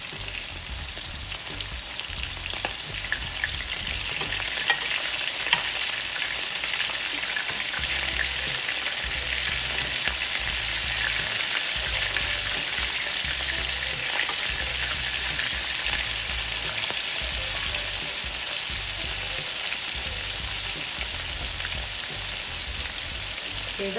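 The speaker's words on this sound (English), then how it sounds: "Okay, just gonna allow them to fry." Jumbo shrimp deep-fry in hot oil with a steady, dense sizzle and crackle that keeps going with no pause, close by and fairly loud, with no talking.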